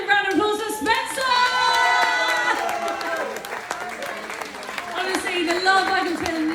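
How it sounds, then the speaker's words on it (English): Wedding guests at a reception applaud a groomsman, with clapping mixed under loud cheering voices and whoops that carry throughout, swelling again near the end. "Can we please have a massive round of applause for Spencer?"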